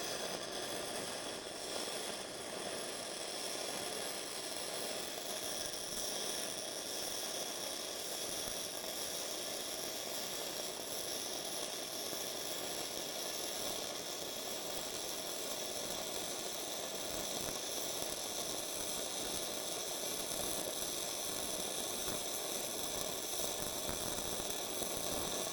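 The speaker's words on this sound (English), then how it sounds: "So now let's weld this 1/4 inch plate" Bestarc gasless flux core MIG welder, cranked to full power, welding 1/4 inch steel plate: a steady, unbroken crackling buzz with broad hiss that holds constant throughout, no voices.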